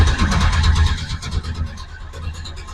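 A hot rod car at the Hot Rod Power Tour 2024 stop at National Trails Raceway in Ohio rumbles close and loud, its deep engine note surging and settling in uneven pulses with no voices over it.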